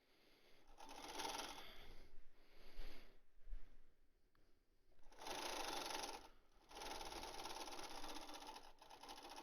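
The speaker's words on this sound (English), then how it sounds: "And I'm still sewing a 1/2 inch seam allowance." A sewing machine sews a half-inch seam, joining a fabric strip to the wrong side of a cloth face mask. The faint, close whirring comes in several short bursts with brief pauses between them.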